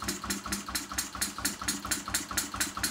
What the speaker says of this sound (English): And the engine is not knocking anymore.